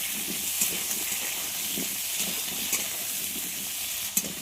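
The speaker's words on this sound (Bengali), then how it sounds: "আলুগুলোকে একটু ভেজে নেব।" Long-cut potatoes frying in a pan for a fish dish, giving a steady, loud hissing sizzle that stays even throughout, with a few faint clinks and scrapes of a utensil.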